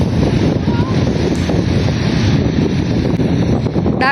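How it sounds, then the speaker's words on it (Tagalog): Sea waves and strong wind roar continuously along a shore near the Chocolate Hills, a dense, close, steady wash of surf with heavy wind buffeting the microphone throughout. "Ayan ang dagat."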